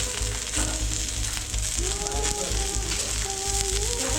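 Paneer fries on a gas stove in a steady, fairly loud sizzle that hisses on evenly throughout, with only faint background sounds beneath.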